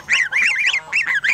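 A goose kept as a noisy yard guard honks loudly and close, a rapid series of about five harsh nasal calls in quick succession.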